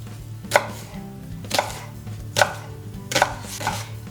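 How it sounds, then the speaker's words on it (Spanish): A knife chops onion on a board for a vegan green bean curry, with four or five sharp, evenly spaced cuts over a low background hum and no talking. "Picamos la cebolla"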